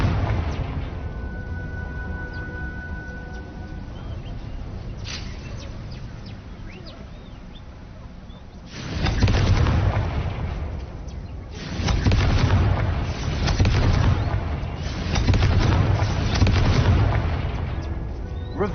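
A Confringo fire spell fired in a wizarding video game lets off a string of loud, booming explosive bursts, three or four in close succession, over a low ambient game backdrop.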